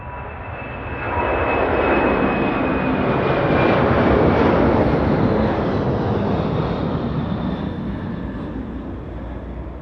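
A Porter airliner jet takes off from runway 23 at Toronto Pearson, its engine roar swelling steadily after the first second and holding loud and continuous, with a faint high whine above the broad rumble.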